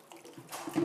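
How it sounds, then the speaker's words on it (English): Water splashes and swishes inside a plastic bucket being rinsed during servicing of an AP213 coffee vending machine, a short, faint, close sloshing sound heard alone. "now we're going to rinse out our bucket"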